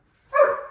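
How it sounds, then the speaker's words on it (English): A single short dog bark or yelp, close and fairly loud, with a tonal whine that trails off. "That is my dog, Nova."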